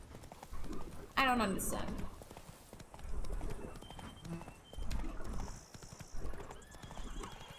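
Hooves of Roach, the horse in The Witcher 3: Blood and Wine, clop in a steady rhythm, with one loud close whinny early on, while a voice talks faintly under the game sounds.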